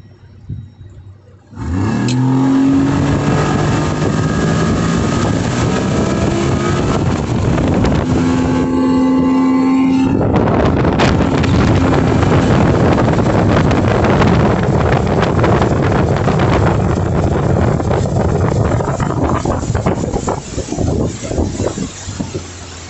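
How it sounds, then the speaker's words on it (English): A Mako 18 LTS boat with a Mercury Optimax Pro XS 115 outboard launching at wide-open throttle, the engine surging from idle into a loud sustained roar with rising pitch and heavy wind buffeting. "We're gonna do a wide open throttle hole shot here."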